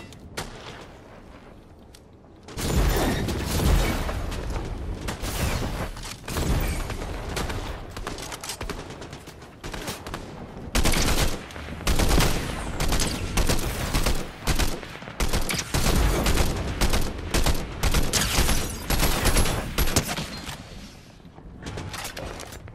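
Dense Fortnite gunfire in a battle royale match: rapid bursts and volleys of shots, loud and close, with mechanical clatter, running nearly nonstop after a quieter opening.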